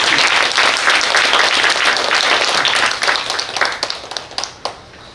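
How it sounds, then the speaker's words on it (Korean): Audience applause at a Korean policy forum on establishing regional special schools, loud and steady dense clapping from a seated crowd that thins into scattered individual claps over the last two seconds. "여러분 박수 한번 부탁드릴게요"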